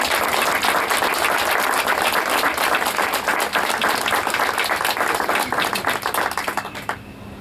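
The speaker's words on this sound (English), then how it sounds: "So please give a very great round of applause for Senator Patricia Bates." Audience giving warm applause for Senator Patricia Bates at an Ocean Institute event, dense steady clapping from many hands that thins and tapers off toward the end, close and loud with no talking.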